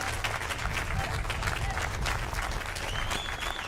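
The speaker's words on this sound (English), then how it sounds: "can we give them one more round of applause?" Concert audience applauding at a military school band and chorus festival, a steady dense wash of clapping throughout with some crowd murmur mixed in.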